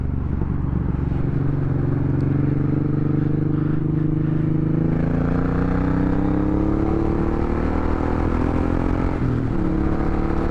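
Suzuki M109R cruiser motorcycle accelerates hard in third gear on a highway, its engine roar climbing steadily in pitch over a loud, continuous wind rush.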